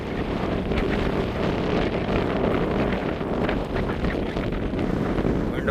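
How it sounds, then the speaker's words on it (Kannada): Strong wind roars steadily across a hilltop near Amboli and Mahadevgad, buffeting the microphone in a continuous loud rumble and gust noise with no pauses. "ವಿಂಡ್ ಬ್ಲಾಸ್ಟ್ ಇಷ್ಟು ಜಾಸ್ತಿ ಇರ್ತೈತೆ"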